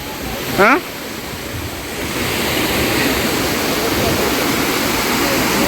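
Telaga Tujuh waterfall in Langkawi roars as a continuous broad rush of falling water, steady and fairly loud, with a brief whistle-like sound near the start.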